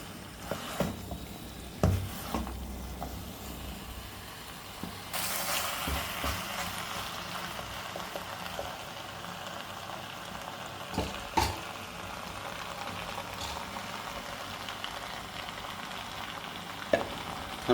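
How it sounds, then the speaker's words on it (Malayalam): Beef fry tossed with masala in a pan, giving a steady low sizzle with occasional scraping stir strokes and a louder burst of frying midway, alone without talk. "ലാസ്റ്റുള്ള ആ മസാല ഒന്ന് നന്നായിട്ട് ബീഫുമായിട്ട് നല്ലവണ്ണം"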